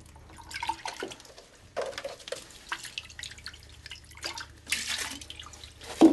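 Water is poured in a few short splashes and trickles onto an RO filter housing holding a little bleach, close up, with drips between the pours.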